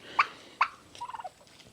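A turkey gives two sharp calls followed by a quick rattling gobble, close by with a quiet background on a farm.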